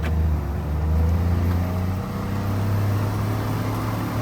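A car engine is revved hard while the vehicle sits stuck on a rough road with traction control cutting in, giving a loud, steady low drone that rises and dips slightly.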